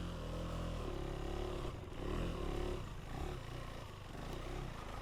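A 2025 KTM 390 Enduro R single-cylinder dirt bike climbs a singletrack trail in first gear, its engine droning loud and close with uneven rises and dips in throttle.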